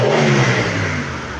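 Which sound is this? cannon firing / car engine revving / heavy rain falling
car engine revving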